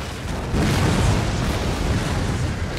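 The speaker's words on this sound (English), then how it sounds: "My artillery is focusing on their guns still." Artillery cannons roar in the video game Empire: Total War, a loud, continuous rumble of booming blasts merging into one heavy wash of battle noise that swells after a moment and holds.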